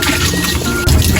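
Tap water runs loudly and close while a cutting board and knife are rinsed in a home kitchen, a brief, steady splashing stream.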